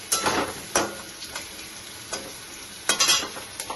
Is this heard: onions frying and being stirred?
yes